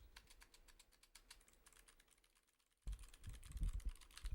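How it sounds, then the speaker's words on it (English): A clicky mechanical keyboard is typed on in quick, irregular bursts of sharp clacks close to the microphone, quieter at first and then louder and heavier after a short pause. "I have a mechanical keyboard that, you know, makes clicky sounds."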